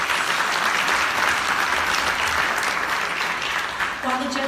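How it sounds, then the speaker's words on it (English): Sustained applause from a pageant audience for contestants in a Miss International competition, dense clapping that fills the room and fades slightly toward the end as a voice begins over it. "Let's give them another round of applause."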